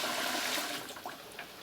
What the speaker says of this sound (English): So I've got this 2-quart jar of water that I'm going to dump in.